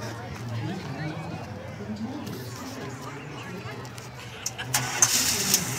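A 1975 Chrysler Cordoba's engine cranks and turns over, a low mid-pitched churn under a steady background hum, building to a sharper burst as it catches near the end.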